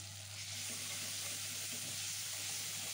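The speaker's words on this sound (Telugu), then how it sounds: "వేసుకొని ఇవి కూడా కాస్త బ్రౌనిష్ కలర్ వచ్చేంత వరకు వేయించుకోండి" Curry leaves and fenugreek leaves fry in hot oil for a tempering, making a steady, close crackling sizzle over a low electrical hum throughout.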